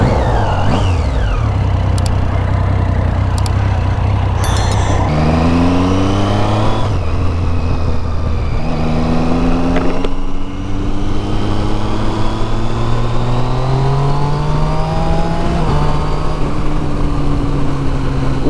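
A Triumph Street Triple 675 motorcycle with a loud aftermarket exhaust accelerates hard through the gears, its engine note rising in pitch, dropping at each shift, then climbing again, loud and close with wind rush.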